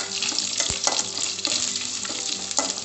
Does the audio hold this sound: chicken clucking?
no